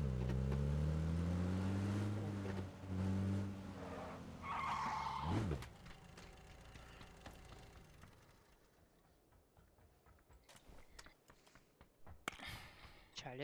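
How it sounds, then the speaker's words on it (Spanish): Off-road vehicle in PUBG on the classic Erangel map: a loud engine drone and a long tire skid, then the motor fades to idle rumble with scattered clicks and thuds, under a voice speaking at times. "Voy a poner el coche, el todoterreno atrás del camión."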